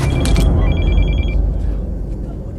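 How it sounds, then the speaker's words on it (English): A phone notification chime aboard a passenger plane, a few bright, clipped electronic tones repeating briefly over a deep, steady rumble of background noise. "waiting for the sound of a phone notification"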